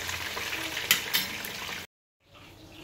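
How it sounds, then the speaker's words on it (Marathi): Chicken lollipops and sauces sautéing in a pan give a soft sizzle, with a couple of brief clinks partway through. The sound cuts to silence, then returns faintly. "तर हे असे मी सगळेच पॅनमध्ये परतून घेते."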